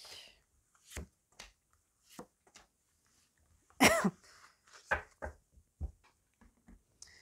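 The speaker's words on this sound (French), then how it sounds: "je suis un peu malade, donc je tousse un petit peu" A woman who is a bit ill coughs once, sharply and close, amid scattered soft clicks and small handling noises in a quiet room.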